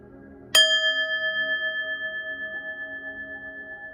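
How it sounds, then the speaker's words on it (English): A single bell is struck once during a spiritual reading session, a clear bright strike followed by a long, gently pulsing ring that slowly fades. "I'm gonna ring the bell, clear the energy"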